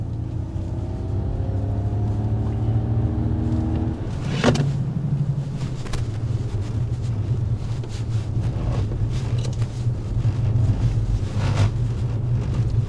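A Ford Mustang Mach-E GT electric car driving fast on a test track, with a steady low drive hum and wind roar throughout and a sharp burst of noise midway as it slides.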